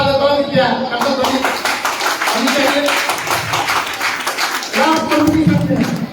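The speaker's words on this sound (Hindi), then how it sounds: "मैं पहले से ताली बजवा देता हूँ" An audience claps continuously at a prize ceremony for a drawing and craft competition, a dense patter of many hands under someone speaking loudly over it.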